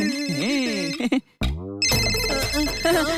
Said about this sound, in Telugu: అర్జెంట్ కాల్ వస్తుంది.